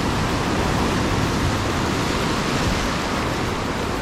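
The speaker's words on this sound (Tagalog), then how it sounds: "kailangan nating kontrahin yung mga malalakas na alon na yan." Strong sea waves surging toward the shore, heard as a steady, loud, broadband wash of surf with no pause and no voices.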